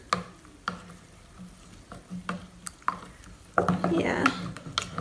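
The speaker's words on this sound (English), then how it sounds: "Give it a stir." An oaty mixture stirred by hand in a bowl, with light spoon knocks and scrapes spaced a second or so apart, then a louder, busier stretch of scraping and clinking toward the end.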